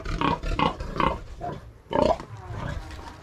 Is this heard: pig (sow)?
yes